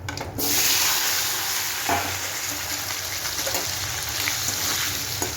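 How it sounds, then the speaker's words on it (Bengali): Potatoes go into a hot pan for soybean curry, setting off a loud sudden burst followed by a steady frying sizzle with occasional stirring knocks. "আলুগুলোকে ছেড়ে দিচ্ছি এবার।"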